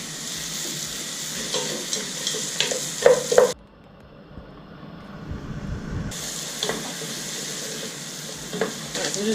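Food sizzles and fries in a pan while being stirred until it turns translucent, a steady crackling hiss that dips briefly midway and then returns at full strength.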